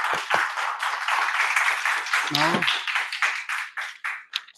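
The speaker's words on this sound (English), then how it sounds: "I think it deserves a round of applause." An audience at a speaking club meeting claps in a burst of applause, many hands patting at once, close and lively before thinning into a few scattered claps as a voice starts talking.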